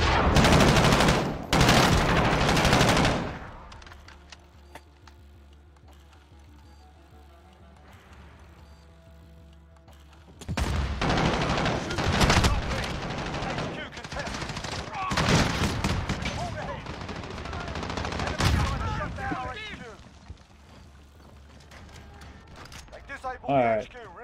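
Grau assault rifle fire in the video game Modern Warfare comes in loud, close bursts separated by quieter stretches, with a player talking at times between volleys.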